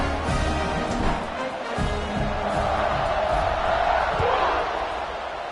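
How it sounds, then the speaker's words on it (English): The crowd in a college football stadium cheers and roars in a dense, sustained wash of noise ahead of a kickoff, swelling slightly, while a commentator talks over it. "this crowd is feeling themselves after that last drive"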